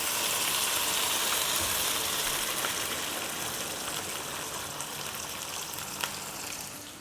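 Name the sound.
pouring water into rice in a pot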